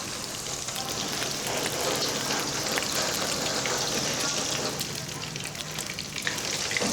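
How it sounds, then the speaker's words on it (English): Steady, dense sizzling of raw anchovy balls frying in hot oil, close and continuous with a crackling hiss throughout. "You just need to fry for a couple of minutes."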